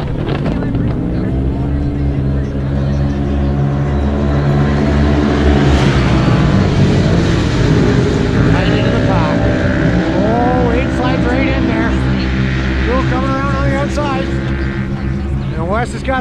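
Side-by-side UTVs race together around an oval dirt track, a loud, continuous wall of overlapping engine roar with rising and falling revs as the machines jostle for position. A commentator talks over the noise.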